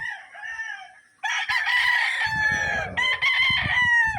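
Gamecock roosters crow loudly and close at a gamecock farm, one long crow followed by overlapping calls from others. A low rumbling noise sits underneath.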